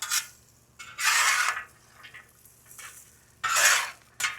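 Fries tossed in oil in a pan for a Philly cheesesteak meal, heard as loud bursts of scraping and sliding with a light sizzle between them, repeated several times up close with no voices.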